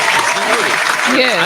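Brief applause breaks out among podcast hosts in a studio, a short burst of clapping mixed with voices talking over it.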